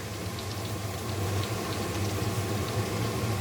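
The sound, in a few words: garlic frying in a pan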